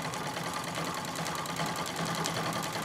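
Singer 66 treadle sewing machine running steadily during free-motion feather quilting, a continuous close mechanical whirr with fine rapid stitching ticks throughout, no voices.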